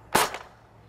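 A Nerf Fortnite BASR-L sniper blaster fitted with an upgraded spring fires once, a single sharp, loud crack with a brief fading tail, heard alone.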